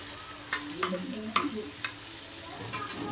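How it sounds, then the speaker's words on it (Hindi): Okra (bhindi) fries in oil in a pan and is turned with a spatula, a soft sizzle broken by several sharp scraping and tapping strokes at an uneven pace. "ऑयल में पूरा भिंडी को ऐसे घुमाना है आपको। तो भिंडी ऑयल में अच्छे से फ्राई हो चुकी है"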